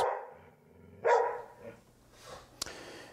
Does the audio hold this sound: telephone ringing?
no